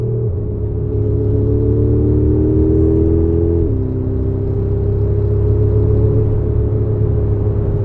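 BMW M5 fitted with a Richter X-Haust exhaust, its engine holding a steady loud rumble that steps up slightly in pitch, then drops back to a lower, even drone, heard alone at close range.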